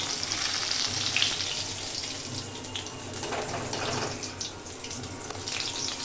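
Batter-dipped bitter gourd sizzles in hot oil with a continuous crackling hiss, close and steady, with occasional clinks as pieces are moved.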